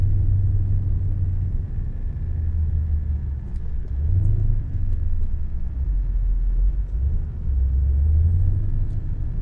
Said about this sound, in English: This truck's having problems getting up here.